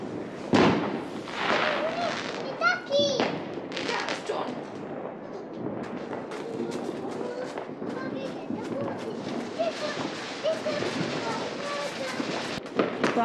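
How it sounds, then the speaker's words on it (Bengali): New Year's Eve fireworks bursting outdoors in the UK, a rapid irregular series of cracks and booms, some near and loud, others more distant, with people chattering and exclaiming throughout. "আতশবাজি অলমোস্ট শেষের দিকে, সবকিছু ডান।"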